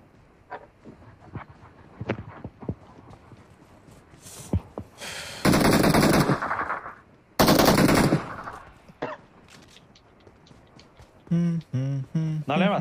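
M416 assault rifles fire in a video game: two loud, sustained automatic bursts break through quieter game sounds, with people talking near the end.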